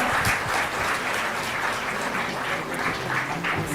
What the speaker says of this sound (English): Maybe have a warm round of applause for her.